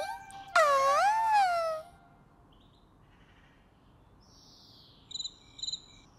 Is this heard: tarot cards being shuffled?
no